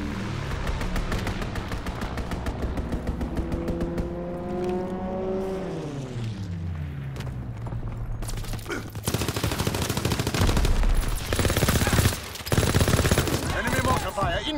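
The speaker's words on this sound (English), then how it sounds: "Enemy strafing run inbound." Gunfire rattles almost continuously in a Call of Duty WWII battle as an enemy strafing run comes in, with an aircraft engine sweeping down in pitch and a louder burst of fire and explosions near the end.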